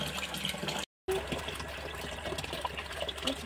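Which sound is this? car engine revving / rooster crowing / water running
water running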